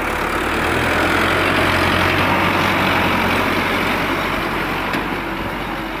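A tractor engine runs at a steady, heavy low rumble near a trolley-loading dump, its level staying constant and fairly loud for the whole stretch, with no voices.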